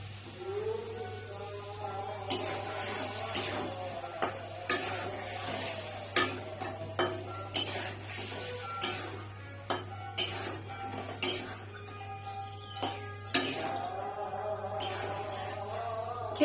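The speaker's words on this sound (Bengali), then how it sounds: "সামান্য একটু জল দিয়ে এটাকে কষাতে শুরু করবো" Taro curry sautéing with a little water in a pan, stirred with a rhythmic run of scraping and tapping strokes of a spoon against the pan, close and fairly quiet over a steady low hum.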